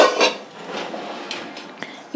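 Small cooking pot handled in a home kitchen, a few light metallic clinks and knocks with a louder clank at the start and a sharp tap near the end, close and sparse.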